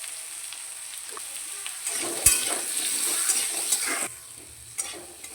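Potato and eggplant fry with turmeric in a pan, a steady close sizzle that swells as the pieces are stirred, with a sharp utensil knock and scraping strokes, no voices.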